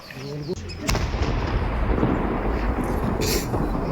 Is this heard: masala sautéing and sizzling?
no